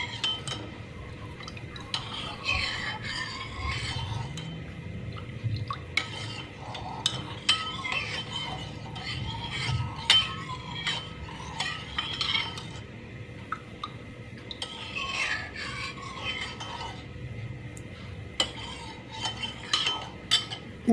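A spoon stirs a milk and yogurt mixture in a container, steady scraping and light clinking going on continuously at close range, with no voices.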